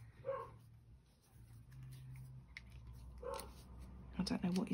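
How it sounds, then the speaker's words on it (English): A pet dog barking indoors in the background: a few short, faint, distant barks spaced a few seconds apart, with a quick cluster of yips at the end, over a low room hum. "I don't know what he's barking at."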